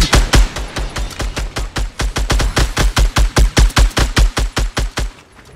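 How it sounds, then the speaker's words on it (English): Rapid gunfire bursts in Fortnite, a long run of evenly spaced, loud, sharp shots firing in quick rhythm for several seconds, close and without voices. "They're shooting rockets right now."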